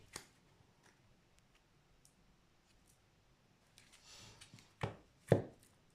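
Tarot cards being cut and drawn in a line-spread reading: a long quiet stretch with faint ticks, then a soft shuffling rustle followed by two sharp, close card snaps.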